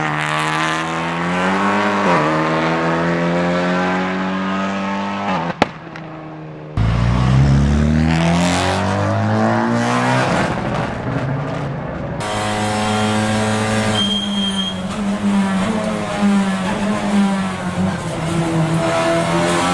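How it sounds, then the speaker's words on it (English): Turbocharged VTEC race car with a straight-cut sequential gearbox, screaming loudly through repeated upshifts as the gear whine climbs with each pull, with a brief sharp ignition cut between runs. "Because it utilizes straight-cut racing gears, it produces a distinct mechanical scream that climbs perfectly alongside the turbocharged VTEC engine note"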